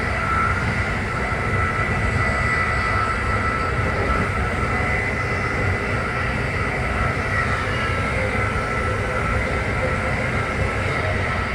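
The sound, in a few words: Amtrak train #183 slowing for an S-curve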